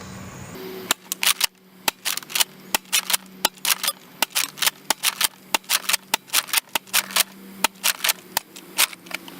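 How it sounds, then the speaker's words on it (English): A Nerf Retaliator blaster fires AccuStrike darts in quick succession, a long run of sharp, close, snappy pops at an irregular, fairly steady rhythm, with faint mechanical rattle between shots. "here we are with a quick firing featuring the Retaliator. And I'll fire off the AccuStrikes first"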